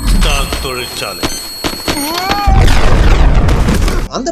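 A bomb explosion in the Iron Man movie begins with a deep boom that swells into a loud, roaring blast lasting about two seconds. Alarm-like tones and a voice come before it.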